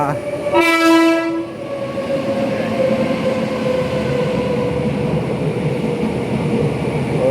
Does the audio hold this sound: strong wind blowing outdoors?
no